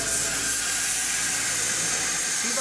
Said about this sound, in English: Now I will open this valve which will allow the high pressure air to enter into the mixing chamber